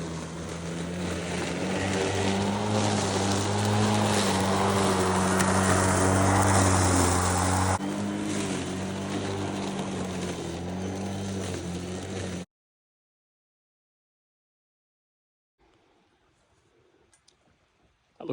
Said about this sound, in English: I'm going to go and get the mower now